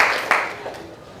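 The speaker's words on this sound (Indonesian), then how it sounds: "Tepuk tangan untuk kita semua." A classroom of junior high students applauds together. Clapping starts fairly loud with one sharp accent, then quickly thins and fades out within about a second, with a faint voice underneath.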